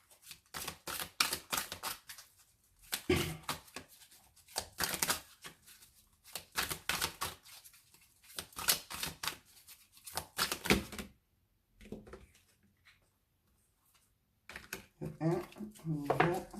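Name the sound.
new oracle cards being shuffled and drawn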